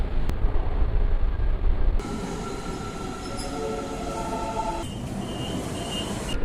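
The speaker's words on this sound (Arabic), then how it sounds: "خلينا بقى نستنى المترو" A metro train rumbles and hums nearby, with a steady low roar and high squealing tones as it moves through the station.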